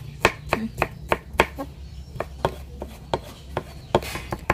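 A knife minces lemongrass rapidly and steadily on a cutting board, a long run of crisp, close strikes with a low hum in the background.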